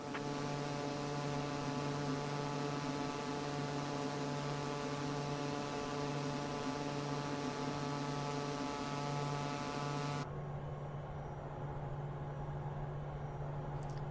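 Pilatus PC-12 turboprop engine droning steadily during a climb, heard from inside the cockpit as a loud, constant hum with strong tonal whine that drops slightly in character near the end.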